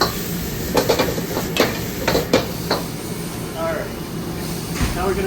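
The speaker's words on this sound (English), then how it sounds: "Now we're gonna caramelize and cook these and make these onions sweat a little bit" Onions and chili peppers cooking in a pan with a continuous sizzling hiss and several sharp utensil scrapes and clacks, while a person talks over it.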